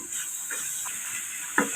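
Spices with chili powder sizzling and being stirred in a hot pan for chicken fried rice, a steady hiss with a few soft scrapes and a sharper clink near the end.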